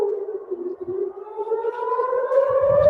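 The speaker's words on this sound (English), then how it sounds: "I just got a siren in the middle of the street." A civil defense siren wails along a street in Israel, a loud rising-and-falling tone that climbs steadily and holds, with faint street rumble underneath.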